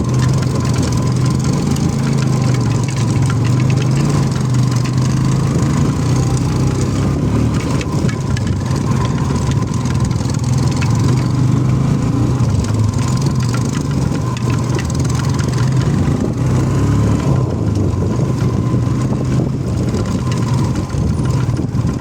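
Motorcycle engine running steadily during an uphill ride, a loud continuous droning hum with a low throb, unbroken for the whole stretch and no talk over it.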